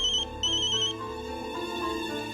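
A telephone ringtone trills in a repeating electronic melody with bright high tones pausing briefly, loud and close with no talking, heard while a call is being placed.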